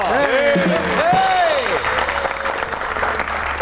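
A studio audience on a Pakistani comedy talk show applauds guest Shabbir Gujjar, a young PTI politician. Steady, loud clapping runs under swooping, whistle-like musical sound effects.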